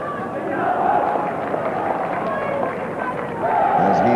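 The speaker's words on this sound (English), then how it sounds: "Crowd, nearly all Pakistani supporters, they're loving it." A large crowd of mostly Pakistani supporters at a cricket semi-final in Sharjah cheers and roars continuously, a broad dense noise with rising shouts, while a commentator talks over it.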